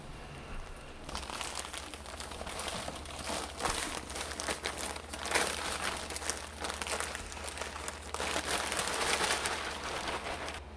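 Potting soil being poured and spread into a microgreen tray nested inside a solid tray, a steady dry crumbly rustle and patter close by, continuous with a few louder scrapes.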